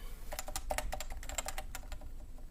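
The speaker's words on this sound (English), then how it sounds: "These have a nice satisfying thock when you hit them down." Typing on a Topre Type Heaven keyboard, a quick irregular run of soft, close keystrokes with muted thocking clicks, some bunched together, heard alone.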